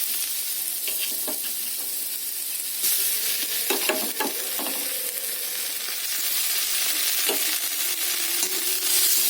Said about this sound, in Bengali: এবার যে আদাটা বেটে রেখেছি, আদা বাটাটা দিয়ে দেবো।